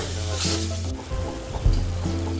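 Onions sautéing in a pan for a chicken kulambu: a steady, close frying sizzle with soft stirring scrapes, and a low hum running underneath.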